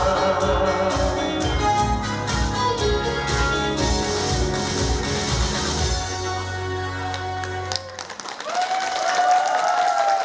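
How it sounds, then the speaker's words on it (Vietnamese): Audience applause at a Hmong New Year stage show in Sapa, mixed with loud music that stops near the end, leaving a brief noisy burst of crowd sound. "một lần nữa xin quý vị hãy cùng dành một tràng pháo tay thật lớn để cùng cảm ơn các nghệ sĩ"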